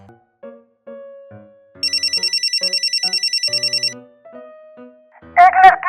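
A phone rings loudly with a steady electronic trill of rapid repeated pulses lasting about two seconds, set among soft musical tones, with a sharper burst of sound at the end.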